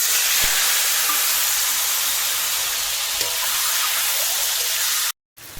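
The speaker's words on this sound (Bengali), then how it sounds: "তেল কিন্তু আমার গরম হয়ে গেছে" Hot oil in a wok sizzles loudly and steadily as eggs go in, a dense crackling fry with a couple of small pops, then a sudden short silence before the sizzle resumes.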